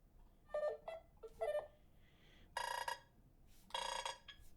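A series of bright electronic tones and chimes plays in short bursts, a quirky synthetic Nothing Phone 2 ringtone with pauses between phrases.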